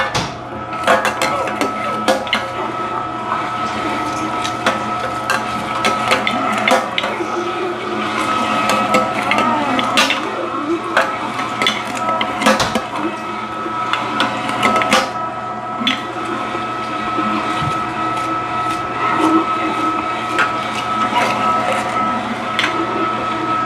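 A meat grinder shreds big seedless zucchini, its steady motor drone running loud and continuous with scattered clicks and knocks as chunks feed through, and some talk now and then over the machine.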